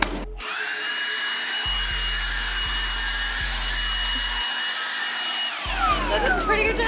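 Milwaukee M18 cordless blower with a swapped nozzle whining loudly and steadily up close, with a strong sustained high tone and low motor hum that cuts out briefly and restarts, no talk.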